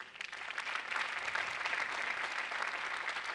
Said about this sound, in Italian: chiedo un altro applauso per lui